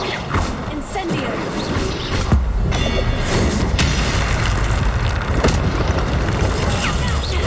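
An Incendio fire spell in a Harry Potter video game blasts with a deep rumbling whoosh and booming impacts over busy game noise, while a player talks over it.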